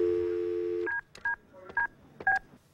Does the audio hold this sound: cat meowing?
no